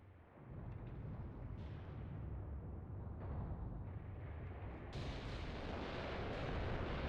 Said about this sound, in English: Oh, heavy artillery fire here on the left side.